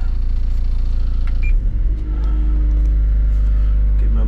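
A red machine with a boom arm, started by a single press of its start/stop button: the engine turns over and catches at about a second and a half, then settles into a loud, steady low idle rumble.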